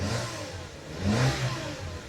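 The petrol engine of a 2002 Citroën C3 rises briefly under a blip of throttle and then settles back, a mid-pitched rev heard close by with no talking.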